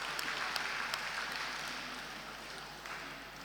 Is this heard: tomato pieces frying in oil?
no